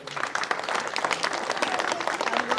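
An audience at a village school's Republic Day prize-giving claps together in a dense, steady round of applause that fills the space at moderate volume.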